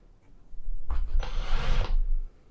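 A power drill drives a 50mm screw into wood during a Vauxhall Vivaro camper van conversion, giving a close, steady whirring burst of about a second with a slight change in pitch partway through.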